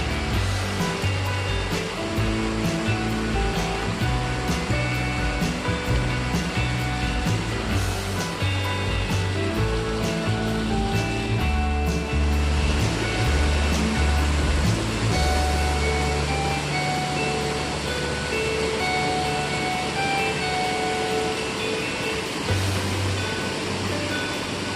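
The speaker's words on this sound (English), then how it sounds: "This is a large waterfall" A large waterfall beside a rocky, moss-covered section of a North Carolina trail gives off a steady, dense rushing roar that holds evenly throughout without a break.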